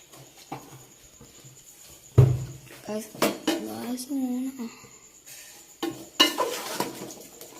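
Mango pickle stirred with vinegar in a pot, giving clattering scrapes and knocks of a spoon against the metal at irregular intervals, moderately close, with a voice talking over part of it.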